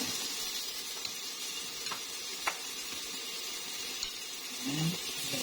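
Onions sizzling in a hot pan while sotanghon is sautéed, a steady soft frying hiss with a few faint stirring clicks and a brief louder sputter near the end.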